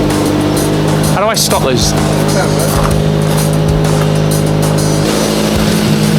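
Toyota Levin GTZ engine idling loudly with a heavy exhaust leak, a steady close drone with harmonic tones running throughout while people talk over it.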